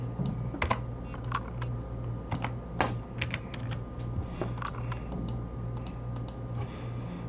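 Typing on a computer keyboard, a quick irregular run of close, light key clicks over a low steady hum, with no talk.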